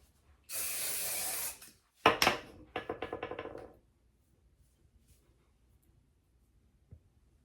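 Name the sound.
wig wax spray spraying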